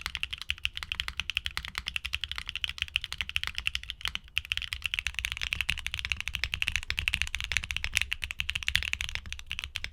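Steady rapid typing on a keyboard fitted with HMX Caramel Pudding switches, a heavier switch type, giving dense, continuous clacks with no voices.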